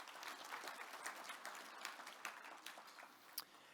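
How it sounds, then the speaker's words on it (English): A round of applause for award nominees at a cultural diversity awards ceremony, moderately faint, steady clapping from a seated audience with a few sharper individual claps standing out. "A big round of applause."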